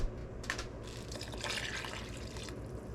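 Water pours into a measuring cup for homemade chicken broth, a soft trickling and splashing stream with a few brief surges, faint and close, no voices.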